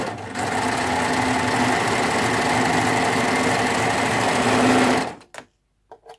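A Baby Lock Ovation overlock machine stitches a two-thread flatlock seam, whirring steadily and loudly for about five seconds before stopping abruptly, followed by a few faint clicks.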